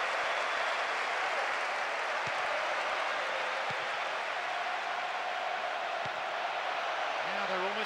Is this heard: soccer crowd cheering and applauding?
yes